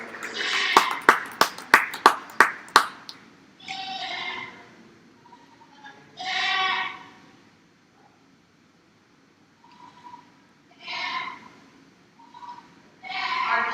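A short burst of sparse audience clapping at a county fair dairy goat and meat goat show, followed by several loud animal bleats that come and go in separate bursts.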